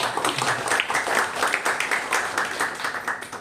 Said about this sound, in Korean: 한번 박수 좀 쳐주시죠